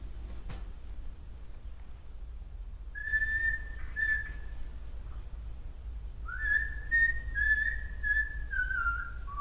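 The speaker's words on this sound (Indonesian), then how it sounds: "Satu kali lagi saya bakal siul ya." A person whistles two short bursts of high, wavering notes, the second longer and sliding downward, over a low background hum.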